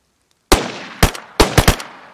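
Video-game gunfire in a multiplayer match: silence, then a sharp shot followed by a bursty string of loud, close bangs with short decaying tails, about five or six reports over under two seconds, no voices.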